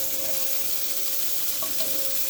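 Sausage sizzles steadily in a pan over medium-high heat, a soft continuous frying crackle with occasional small pops, close and fairly quiet, with no voices.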